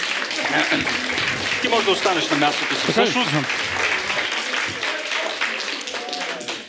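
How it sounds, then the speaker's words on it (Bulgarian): An audience at a talk event applauds steadily with dense clapping throughout, while a person speaks briefly over it. "много аплодисменти"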